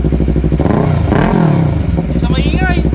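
A Yamaha R3 motorcycle with an aftermarket Yoshimura exhaust idles and revs nearby, a loud throbbing engine rising and falling, with people talking over it.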